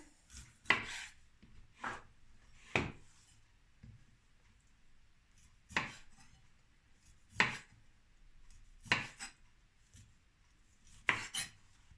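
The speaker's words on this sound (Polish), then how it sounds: "Teraz pokroję składniki. Ananas w kostkę." A knife chops pineapple into cubes on a cutting board for a mayonnaise-horseradish salad, giving sharp, close, isolated thuds in an irregular rhythm, roughly eight strikes with short pauses between them.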